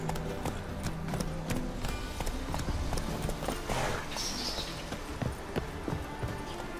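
Roach the horse gallops in The Witcher 3, a steady rapid clip-clop of hooves running close and clear for the whole stretch, with a brief higher whinny-like sound partway through.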